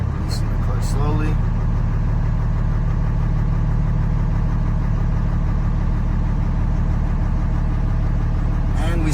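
A truck engine runs steadily in second gear as the clutch is slowly released during a parking brake check, a loud continuous low rumble with a slight mechanical rattle throughout, holding an even level.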